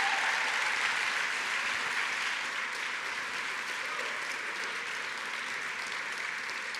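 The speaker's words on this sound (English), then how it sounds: "Our future leaders, please give Anthony and Edie a round of applause." Sustained, dense applause from an awards ceremony audience, honoring two young honorees at the New York City Jefferson Awards, steady and full throughout with no voices over it.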